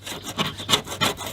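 A scraper works paint off a narrowboat roof in four rhythmic, rasping strokes, each a gritty swell of scraping close by, with no voices.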